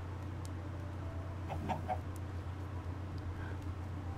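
Minecraft chickens clucking in a short burst of clucks near the middle, over a steady low hum of game background sound, with no voices.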